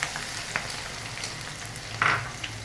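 Garlic fries lightly in mustard oil, a soft, steady sizzle with a few faint utensil clinks and one brief brighter crackle, with no voices.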